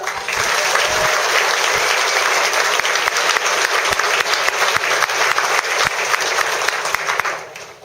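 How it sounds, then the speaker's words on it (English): An audience at a fifth-grade graduation ceremony breaks into loud, sustained applause, dense clapping that holds steady before fading out near the end, with scattered crowd noise mixed in. "So you get a huge round of applause for our"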